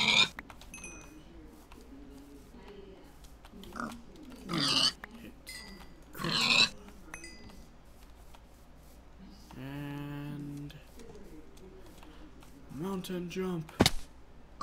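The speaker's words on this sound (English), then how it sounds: "everywhere there's pigs." Pigs in the Minecraft video game grunt and oink amid bursts of game sounds, with someone talking over them at intervals.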